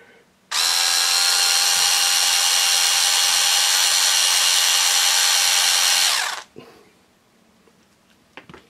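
An electric screwdriver spins freely during a servo winch build. It gives a steady, loud, close motor whine that runs for about six seconds and then cuts off abruptly, with no talking.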